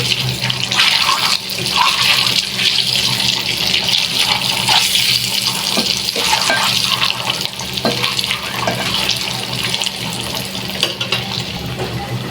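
Eggs fry lightly in a pan for Bengali dim bhuna with a loud, steady sizzling hiss that runs unbroken throughout, close by and without any talk.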